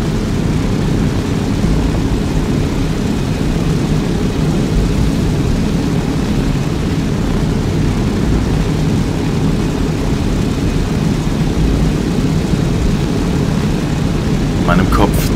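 A plane takes off in Arma 3: a steady, loud, broadband engine and propeller roar fills the cabin throughout, unchanging and close, with no talking.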